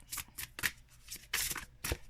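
A deck of cards is shuffled close up in several quick riffling bursts, each a crisp fluttering snap.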